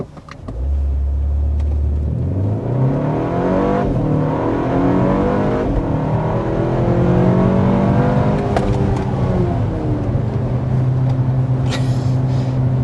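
A 2025 BMW X1 SUV accelerating hard, its engine note climbing through the gears with shift dips along the way, loud and steady from inside the cabin with no talking.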